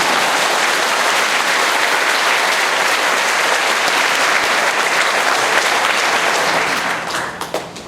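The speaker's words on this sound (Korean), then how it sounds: "차지에 박수라도 한 번 보내주세요." A lecture audience breaks into loud, thick applause that stays strong and steady for several seconds, then thins into scattered claps as it dies away.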